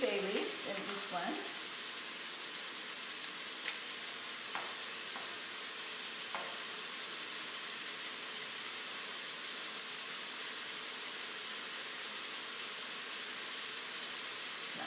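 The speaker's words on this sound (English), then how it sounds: "while it's sauteing, we want to saute our onion until they're about translucent" Onions sauteing in a pot for spring split pea soup, a soft steady sizzle and hiss running throughout, with a few light clinks and taps of stirring near the start.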